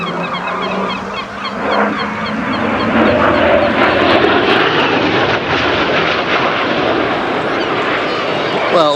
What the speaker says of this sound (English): you surely can't miss this aeroplane, the Hawker Hunter F-58A